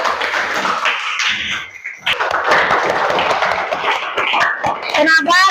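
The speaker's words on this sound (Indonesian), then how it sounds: "Tepuk tangan dulu untuk ya" Children in a classroom clap together in a dense, steady burst of applause lasting several seconds, with scattered taps and young voices chattering underneath.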